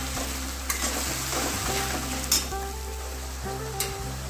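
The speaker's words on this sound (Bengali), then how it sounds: "এবার আদা রসুন পেঁয়াজের পেস্টটা দিয়ে দেব। মশলাটাকে একটু ভালোভাবে কষিয়ে নেব।" Ginger, garlic and onion paste fries with spices for mutton biryani, giving a steady close sizzle under a constant low hum, broken by a few sharp stirring clicks and scrapes.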